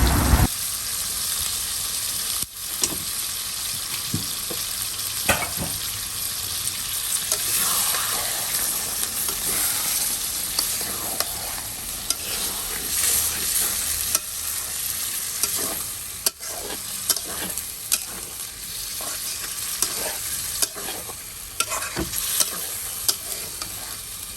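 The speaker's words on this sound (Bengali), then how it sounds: "এখন ভালো করে কষায় রান্না করে নেবে" Bamos fish is stir-fried in a pan at home, giving a loud, continuous sizzle with frequent scraping and clattering stirring strokes throughout, close up and with no voices.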